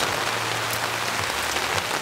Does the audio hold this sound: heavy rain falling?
yes